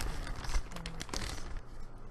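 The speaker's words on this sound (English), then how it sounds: "I carry around my nail polish remover conveniently in a crinkly plastic" A crinkly plastic bag holding a bottle of nail polish remover rustles and crackles close to the microphone in quick, uneven handling bursts.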